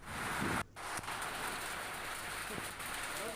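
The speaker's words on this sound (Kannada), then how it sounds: "ಕೆಲವು ಕಡೆಗಳಲ್ಲಿ ಗುಡುಗು ಸಹಿತ ಮಳೆಯಾಗಿದೆ" Sudden heavy pre-monsoon rain falls in Ramanagara in front of a house with a row of parked vehicles, a steady dense broadband wash with brief clicks of drops.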